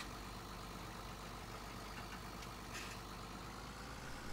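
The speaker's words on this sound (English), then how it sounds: "Jump in the tractor now." A tractor engine idles steadily in a farming video game, a constant low rumble that holds level and close throughout with no talk over it.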